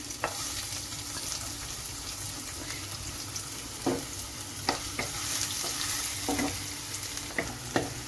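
Ginger and garlic fry in hot oil in a pan, a continuous bright sizzle up close, punctuated by several sharp ticks and scrapes of stirring spaced through the clip.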